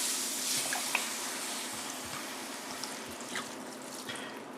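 Dry white wine, about a cup and a half, pours into a hot pan to deglaze the fond, a steady bright splashing hiss that trickles on throughout with small scattered drips and bubbling.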